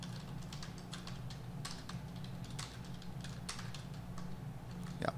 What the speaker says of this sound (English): I am not good at typing today